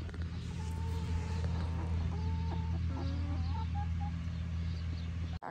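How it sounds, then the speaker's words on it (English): Farm chickens clucking nearby over a steady low hum, a run of short repeated clucks and calls, with no talk. "Come on, chickies."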